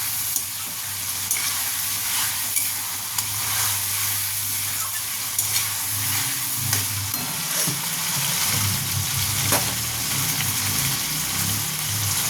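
Green chilli, ginger and garlic fry in a pan for a chicken and bottle gourd curry, a continuous close sizzle with scattered stirring clicks and a low rumbling undertone throughout, with no talking.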